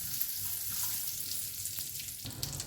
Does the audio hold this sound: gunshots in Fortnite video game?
no